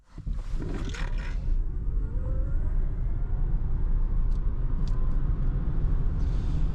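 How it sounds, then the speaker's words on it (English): A Genesis GV70 Electric SUV with 490 horsepower accelerates hard in boost mode, a continuous low rumble of tyres and road noise rising from a standstill and holding loud, with a faint whine from the electric drive. "when pressing the boost button, this is where the car really shines"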